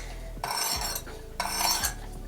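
Two drawn strokes of a knife blade across a 400-grit sharpening stone on a Work Sharp Precision Adjust Elite, each a bright metallic scraping pass, close and clear, alternating sides with a short gap between.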